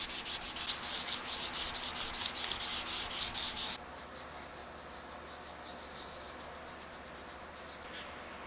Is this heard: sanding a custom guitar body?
yes